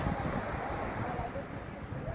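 Sea waves wash at the seaside in Kuwait, a continuous broad rush of surf blended with wind noise, steady and fairly close for a brief moment.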